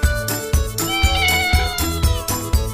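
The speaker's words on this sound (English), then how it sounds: "This is cat. It makes meow sound." A cat gives a series of clear, close meows, each drawn out and tonal, repeating steadily over a low rhythmic thumping backing.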